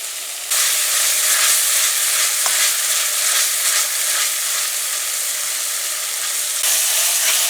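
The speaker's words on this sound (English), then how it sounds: "the curry paste as usual is cooked for about 2 minutes, and you want to stir during that time to prevent it from burning" Curry paste sizzles steadily in a pan for chicken liver and gizzards, a loud, even frying hiss close by with a few soft stirring scrapes and no talk.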